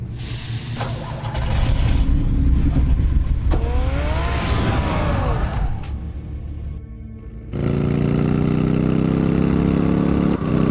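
A car engine idles in a Batman Telltale game scene, a steady mid-pitched rumble that dips briefly before a louder, fuller engine drone returns, with a rising whine partway through.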